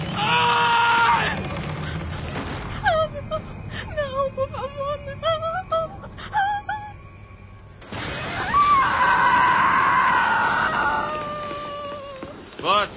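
A person screams in long, piercing, wavering cries that come in two bouts, separated by a stretch of shorter strained moans and wails, loud and close with a muffled room-like background.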